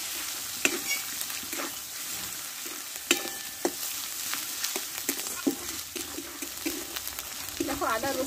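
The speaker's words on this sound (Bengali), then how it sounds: "দিয়ে একসঙ্গে ভালোভাবে কষে নেবো আমি এটা।" Ginger paste, garlic paste and chopped tomato fry in a pan for spicy chicken kosha, a steady close sizzle broken by irregular scraping stir strokes and clinks throughout.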